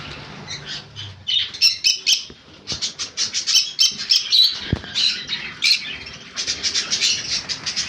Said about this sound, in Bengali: এখানে আছে ব্লু ইয়েলো সাইড কনুর।